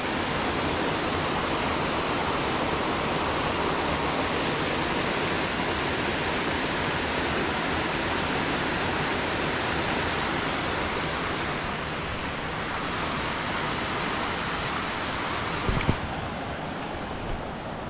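A waterfall in Georgia roars as a steady, dense broadband wash of falling water close by, with one brief knock near the end.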